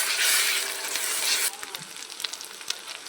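Chopped onion fries in hot oil as ginger paste and garlic paste go in for a village chicken curry: a loud, dense sizzle that drops after a moment to a quieter crackle with scattered pops.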